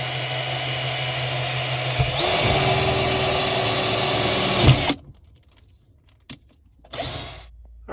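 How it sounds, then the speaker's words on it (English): A power drill bores pilot holes for wall anchors during a bathroom storage fit-out in an Embassy Dolphin motorhome; the steady whine runs loud and close for about five seconds, then stops, with a brief second burst near the end. "So the first thing I have to do is drill pilot holes for the anchors."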